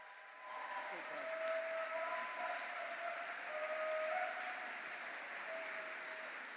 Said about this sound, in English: Would you please give a huge round of applause to the one and only Frankie So.